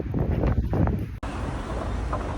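Strong wind buffets a microphone outdoors near a museum in Reggio Calabria, a loud, continuous low rumble with a brief dropout midway before the gusting resumes at full strength.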